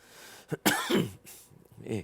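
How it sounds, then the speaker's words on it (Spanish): A sharp allergic cough with a throat-clearing burst, followed by a short stretch of Spanish speech. "Discúlpenme esta tos alérgica que me afecta"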